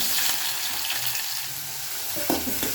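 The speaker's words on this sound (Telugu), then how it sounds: "ఇవన్నీ వేగేలాగా కలిపేద్దాం." Mustard seeds, cumin, green chillies and onions sizzle and crackle steadily in hot oil for an egg curry, the frying loud and close, with a brief stirring clatter near the end.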